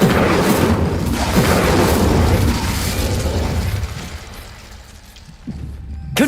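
A Confringo spell explosion in Hogwarts Legacy, a loud booming burst with a rumbling tail that settles into quieter low rumble, followed by a faint thud near the end.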